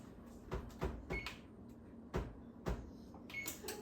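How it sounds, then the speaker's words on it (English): An oven being switched on for a meatloaf, with a few clicks and knocks of knobs and a door or panel handling, close and fairly quiet with no talk. "I'm going to turn my oven on."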